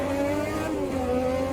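A 1300-horsepower Formula One car engine accelerates in a short, loud, continuous high-pitched whine that shifts slightly in pitch.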